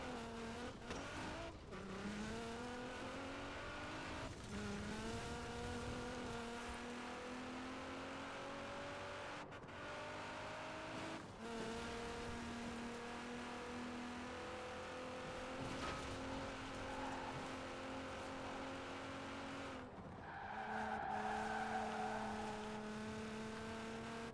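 A car in Forza Horizon 4 on the Fortune Island DLC, driven hard on PC. A steady engine note rises and falls through repeated gear shifts, with tire squeal and skids over about twenty-four seconds and no voices.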